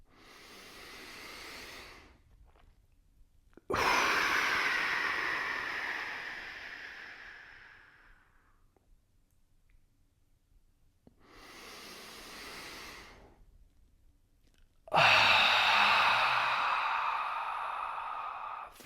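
Two forceful exhales during a deep breathing exercise, each a loud breathy rush pushed out from the belly that fades slowly, separated by quiet pauses with softer inhales between, close and alone.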